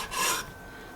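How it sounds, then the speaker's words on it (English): A knife trims fat off raw chicken, a short rasping scrape that swells and fades within half a second, then quiet. "you have to trim off the fat"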